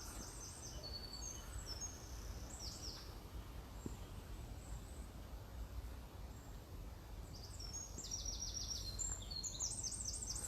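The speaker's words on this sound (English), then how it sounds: "You get the birds chattering away as well" Small birds chatter in a garden, their faint, high chirps and short trilled bursts coming in scattered clusters over a soft, steady outdoor hush.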